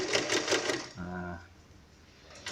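A sewing machine stitches a small handmade wallet in short, rapid bursts of mechanical whirring, close by, alternating with someone speaking.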